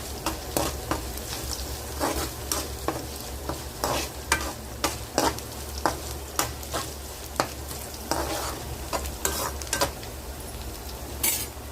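Tempering with turmeric frying in a pan before shredded cabbage goes in, a soft continuous sizzle broken by frequent close spatula scrapes and light metallic clinks, no talk.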